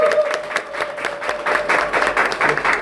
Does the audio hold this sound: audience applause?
yes